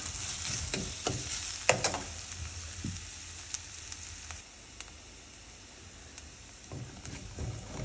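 Onions frying in a pan for Andhra-style dal, a soft hiss of sizzling oil with intermittent scraping and tapping of a stirring spoon, close and fairly quiet, no talk.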